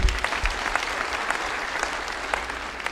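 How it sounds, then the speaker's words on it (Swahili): A church congregation claps for Jesus in a dense, steady burst of applause, many hands together at close range and fairly loud, sustained without pause. "pigia Yesu makofi mazuri"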